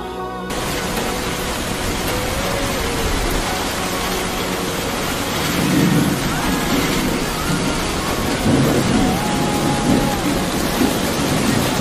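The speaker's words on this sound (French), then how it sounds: "Il pleut, maman." Steady heavy rain hisses throughout while low thunder rumbles swell in the middle and again near the end.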